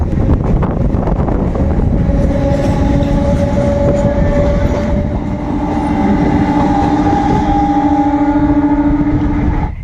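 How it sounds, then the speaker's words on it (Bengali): A train pulling out toward Ranchi from a small rural station in Purulia, rumbling loud and close with rhythmic clatter, a tonal whine and wind buffeting throughout, no voices. "ট্রেনও ছেড়ে বেরিয়ে গেল এ চলে যাবে সোজা রাঁচি"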